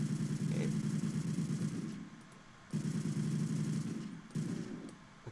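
A full-auto gun in a video game fires in long sustained bursts, three rapid rattling strings separated by short pauses, moderately loud with no talk over it.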